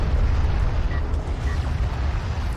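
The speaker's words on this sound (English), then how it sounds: "Missile barrage is almost going to find one of the railguns" Missile barrage explosions rumble continuously through a real-time strategy space battle, a dense low roar of overlapping blasts with no single clear hit standing out.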